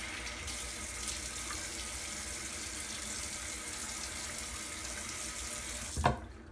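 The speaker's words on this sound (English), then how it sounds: "Let me rinse my face" Water runs steadily from a bathroom tap into a sink while someone rinses their face before a shave, a constant close hiss with a brief splash near the end.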